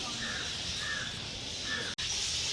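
Birds calling at Mysore Zoo, with crow-like caws rising over a steady rustling background of trees, moderately close, and no speech.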